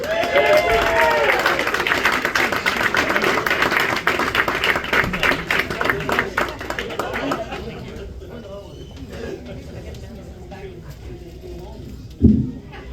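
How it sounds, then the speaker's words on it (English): Comedy show audience applauding and cheering for a stand-up comedian, loud dense clapping and whoops that gradually fade out, followed by a single sharp thump near the end. "round of applause and hoorahs for the very, very funny Patrick McKinstry, everybody!"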